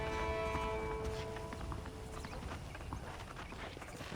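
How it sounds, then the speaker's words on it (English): Horse hooves clip-clop at a steady walking rhythm in the video game Red Dead Redemption on PC, close and clear over a faint ambient background, without talk. "The horses are saddled up over here."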